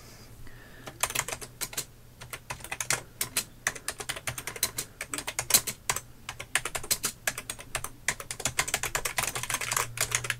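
Rapid, irregular keystrokes on a Packard Bell 5131c clicky mechanical keyboard, crisp close clicks in quick bursts with brief pauses, growing denser toward the end.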